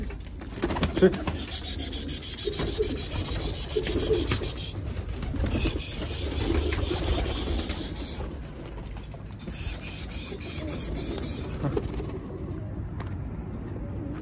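Pet pigeons are let out of their loft, with soft scratching, rustling and shuffling close by over a low background hum; someone briefly speaks a single word.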